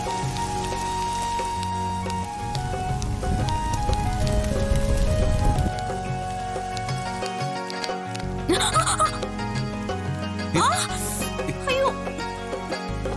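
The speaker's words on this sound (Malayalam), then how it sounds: "അയ്യോ മഴ പിടിക്കുന്നു. ഓടിക്കോ." Rain beginning to fall in an outdoor drama scene, a hissing patter that swells for a few seconds early on under loud background music, then fades back into the score.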